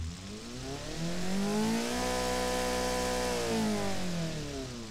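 Oversized turbo on a small engine in a custom-built racing-game car, revving up loud and steady with rising and falling harmonics, a droning, slightly annoying tone held alone for several seconds.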